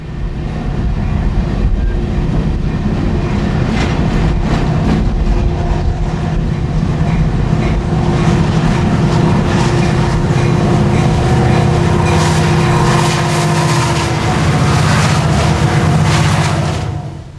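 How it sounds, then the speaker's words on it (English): Two empty coal trains pass each other in opposite directions, a loud steady rumble of rolling cars with clattering wheels and squealing steel that continues throughout without voices. "Empty meets empty, going in opposite directions"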